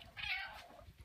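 House cats meow for their dinner in a home kitchen, one clear drawn-out mew up close followed by softer murmurs, with no voices present.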